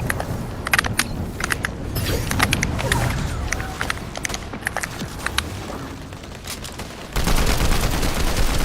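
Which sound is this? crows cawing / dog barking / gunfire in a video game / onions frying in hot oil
gunfire in a video game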